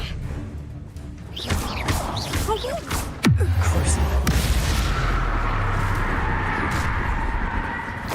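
Fantasy combat from the Hogwarts Legacy video game with Confringo and Bombarda blasting spells: whooshing casts lead into a heavy booming impact with a low rumbling tail, while a voice speaks throughout.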